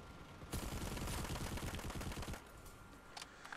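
Rapid automatic gunfire in Planetside 2 from an unsuppressed weapon: a dense, continuous burst lasting about two seconds, followed by scattered distant shots.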